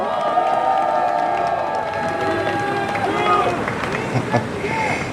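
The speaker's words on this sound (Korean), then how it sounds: "격려의 박수 한번 부탁드립니다." A crowd at an outdoor political campaign rally in Korea applauds and cheers, a steady wash of clapping and voices with tonal, music-like sounds running through it throughout.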